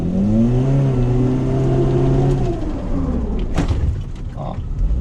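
A car engine revs hard as the throttle is floored and the steering is turned to start a drift, a loud sustained roar with rising harmonics that holds steady, then breaks into rougher, noisier rumble toward the end.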